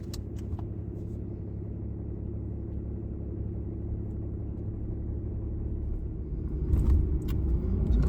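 A rental truck drives along, its engine and tyre rumble forming a steady low drone from the cab, with a brief rattle and louder rumble near the end; no one speaks.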